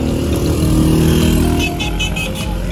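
A motorcycle engine runs steadily close by, a loud continuous rumble that holds through the whole moment.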